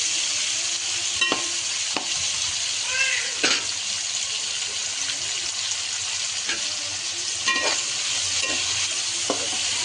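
Vegetables for veg noodles fry in a hot pan with a constant sizzling hiss, broken by intermittent spatula scrapes and clinks as they are stirred and tossed.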